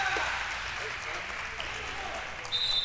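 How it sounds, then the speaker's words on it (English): A small crowd at a high school wrestling meet cheers after a double-leg takedown, a steady wash of noise that swells again near the end. "The small Lovett crowd we have here was pretty excited on that double."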